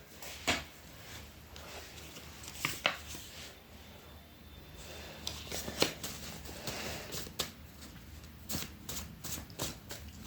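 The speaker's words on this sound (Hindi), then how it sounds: "let's take one more card from a shuffle" Tarot cards being shuffled by hand, a run of soft papery riffles and flicks with several sharper card snaps, close and fairly quiet, with no talking.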